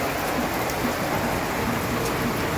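Steady rain falling during the rainy monsoon season, a dense, even hiss of drops with no voices.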